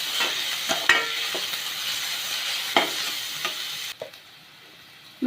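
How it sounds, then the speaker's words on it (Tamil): Chopped onion and curry leaves sauté in hot oil with a steady close sizzle, broken by spatula scrapes and stirring clicks; the frying drops quieter near the end. "இது ரெண்டுத்தையும் சேர்த்து வதக்கிக்கலாம்."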